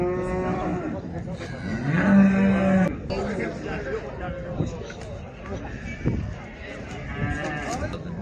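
Heifers low repeatedly at a livestock market, one long, loud moo standing out near the start, with softer moos and crowd chatter and voices of traders around them.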